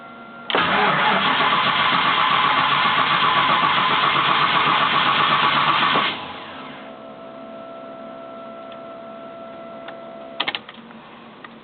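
A car with a dim check engine light and a constantly running fuel pump cranks steadily for about six seconds without catching, then falls to a quiet electrical hum with a couple of brief clicks.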